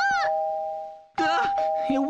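A doorbell chimes in a Minecraft game, a sustained electronic tone that rings on through overlapping excited voices.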